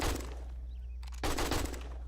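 An AK rifle in 7 Days to Die fires rapid bursts at a zombie horde, two dense rattling volleys of loud close gunfire separated by a brief pause.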